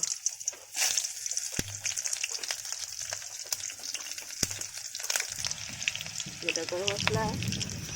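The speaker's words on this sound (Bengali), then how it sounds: "এবার ফোড়ন হিসাবে গোটা গরম মশলা আর কাঁচা লঙ্কাগুলো দিয়ে দেব" Whole garam masala and green chillies hit hot oil with a crackling, popping sizzle, sharp spits standing out over a continuous fry, while a voice talks near the end.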